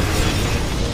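A loud, dense explosion from the video game Vanquish fills the whole second with a broad roaring blast and rumble.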